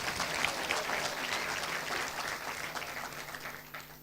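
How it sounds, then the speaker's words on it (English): Steady, dense audience applause for fashion show models at an Intellectual Property Day celebration, continuous and fairly even throughout, with a faint tonal hum underneath. "And another round of applause, please."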